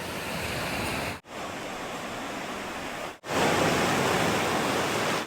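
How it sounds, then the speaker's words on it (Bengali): Sea waves breaking on the clean beach at Bagda, Odisha, a loud, steady roar of surf with a brief lull between surges, close and alone with no talk. "সমুদ্রের ঢেউও বড় আছে"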